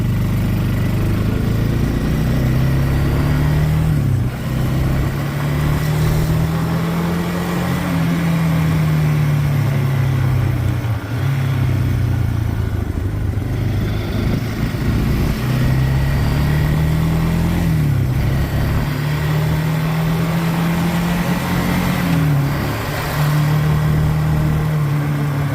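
A Yamaha Bear Tracker ATV engine running after a carburetor repair, a loud close steady drone that rises and falls through repeated revs and shifts for the whole stretch, with no talking.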